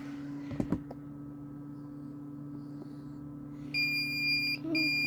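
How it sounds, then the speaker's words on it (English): Electronic beeps sound near the end as high, sustained tones in short bursts over a steady low hum, with a few faint taps earlier. "I'm so sorry about the beeping."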